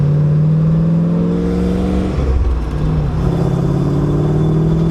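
An LS V8-swapped Mercedes engine drones steadily with rising harmonic tones as it accelerates onto a freeway, briefly shifting pitch before pulling on at speed.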